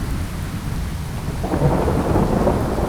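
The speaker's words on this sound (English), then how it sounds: "Is that thunder too loud?" Heavy rain hisses steadily in a Skyrim Special Edition thunderstorm, and a deep rumble of thunder swells about halfway through and lingers under the downpour, loud and close, with no voices.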